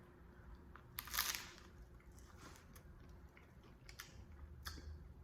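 Someone bites into the crunchy bread of a Cuban sandwich, producing one crisp, close crunch followed by a few faint crackles and chewing clicks in a quiet room.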